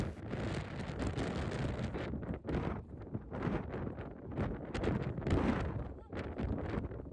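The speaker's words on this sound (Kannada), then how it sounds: "ಗಾಳಿನೇ ನನ್ನ ದೂಕ್ತಾ ಇದೆ, ಫಸ್ಟ್ ಎದ್ದೋಗ್ಬೀನಿ ಇಲ್ಲಿಂದ ಅಂತ" Strong gusty wind buffets the microphone on the rocky hilltop of Edale Rocks in the Peak District, a loud, continuous roar that surges and briefly dips.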